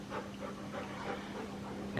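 Puppies pant quietly and steadily in a home kitchen, a soft rapid breathing rhythm with faint whimpers, low and close throughout.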